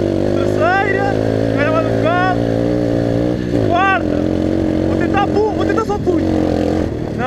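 A Pitbike 125 motorcycle climbing a hill in fourth gear, its engine droning loud and near under a strained, steady pitch that drops briefly before revving again, with a voice talking over it throughout.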